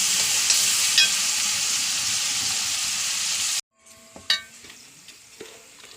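Onions and chillies fry in a pan with a loud, dense sizzle for about three and a half seconds. The sizzle then cuts off abruptly, leaving a quieter stretch broken by a few clinks and light stirring knocks.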